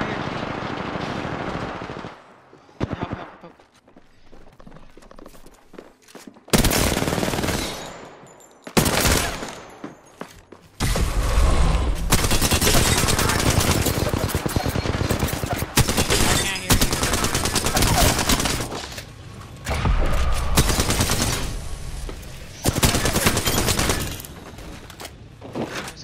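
Heavy video game shootout gunfire with long bursts of rapid automatic shots and sustained loud volleys, broken by short pauses, close and dominant, with occasional voices underneath.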